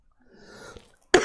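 A single sharp, loud cough bursts out at the very end after a stretch of quiet, low murmuring from a man teaching a geometry lesson.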